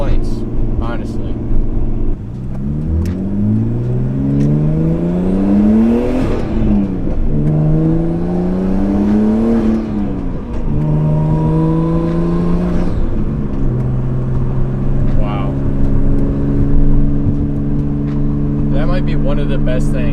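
Nissan R32 engine under driving load with a short shifter, revving up through several gears in rising sweeps with distinct drops at each shift, then settling to a steady cruise, with someone talking over it.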